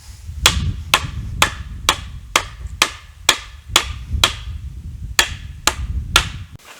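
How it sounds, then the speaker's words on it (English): A hammer strikes a block to drive a log bench leg home, with about a dozen sharp, loud, evenly spaced wooden knocks close by, each cracking out over a low thudding rumble. "we're going to take a block and a hammer and just pound it home"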